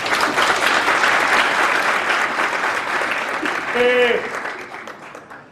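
Audience applause for firefighters at a talk on Burkina Faso's security situation, a dense, steady clapping crowd filling the whole stretch, with a brief voice cutting through near the end.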